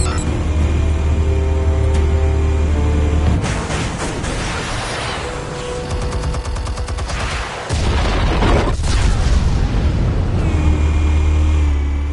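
Explosives detonate in Batman: The Telltale Series, heavy booms and crackling blasts bursting over a loud low rumble, with debris-like clatter and a sudden drop before the rumble surges back.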